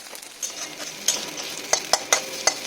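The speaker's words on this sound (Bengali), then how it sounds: "ছাতুটা আমার ভাজা হয়ে এসছে" Sattu (chhatu) fries in a pan under a soft continuous sizzle, punctuated by several crisp scraping taps of a spatula, the strokes coming quicker toward the end, close and with no speech.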